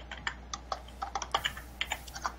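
Quick, uneven key taps on a computer keyboard patter along steadily and close by, with short pauses between clusters and no one talking.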